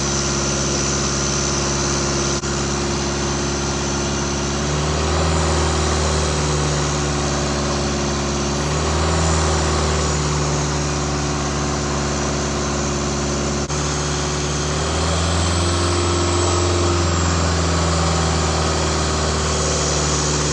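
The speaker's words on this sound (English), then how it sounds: "So you can hear it peaking, and then it comes back down again" A 2001 Toyota Land Cruiser Prado GXL engine with a power-loss fault runs continuously at a steady drone, with a few gentle swells where the revs rise and ease back down, close and unbroken.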